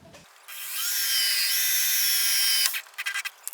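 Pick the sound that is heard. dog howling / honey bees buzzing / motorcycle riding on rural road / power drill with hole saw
power drill with hole saw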